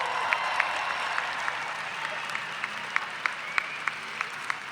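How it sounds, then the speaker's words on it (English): Applause from an outdoor rally crowd at an Invasion Day gathering, steady and moderately loud for the whole stretch with sharp individual claps standing out; no clear cheering voices come through. "give them another cheer. They deserve it."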